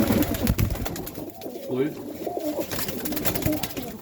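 Serbian Highflyer pigeons coo in a loft, soft repeated low burbling calls close by, while someone talks over them.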